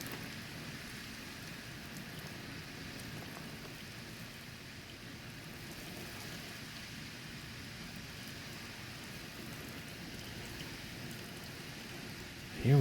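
Heavy rain pours steadily through an intense thunderstorm with 50 mph wind gusts, a dense, even wash of noise that swells to a louder burst at the very end.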